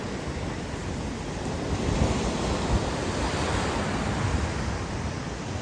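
Sea surf washes steadily onto Bytkha beach in March, a continuous, fairly loud roar of breaking waves with some wind buffeting the microphone and no voices.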